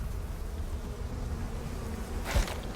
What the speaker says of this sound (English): These bees.